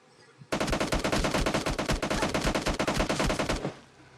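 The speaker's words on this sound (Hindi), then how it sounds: "जैसे हील होती है मेरे को पीछे से शॉट्स पड़ने लग जाते हैं।" Rapid automatic gunfire in the mobile shooter PUBG Mobile Lite, with shots coming from behind the player in a loud, dense burst of about three seconds that starts abruptly and then cuts off.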